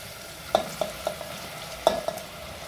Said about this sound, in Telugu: ఇప్పుడు మనం కట్ చేసి పెట్టుకున్న టమాటో దీంట్లో వేసేద్దాం